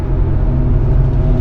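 A 1972 Chevrolet Monte Carlo with a hopped-up exhaust cruising along, a loud, steady low rumble from the exhaust droning close and continuous with no talk.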